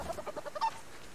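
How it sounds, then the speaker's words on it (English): Short, rapid clucks from a chicken in the survival video game Subsistence, repeated several times in quick bursts at moderate loudness, with no talking. "Crazy chicken."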